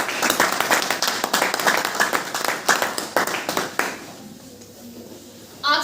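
Rhythmic clapping from a group at a hotel training session, sharp close claps in a steady beat for about four seconds before dying away into near silence, with a brief noise at the very end.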